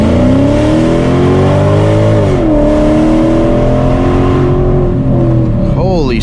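A Mercedes E55 AMG launches and accelerates hard, its engine roaring loud and close with rising harmonics, a brief dip as it shifts, then climbing again to a high-pitched rev near the end.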